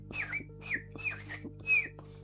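A person whistles four rising-falling chirps in imitation of a swallow's call, spaced evenly and fairly close, with a steady low hum underneath and no talking.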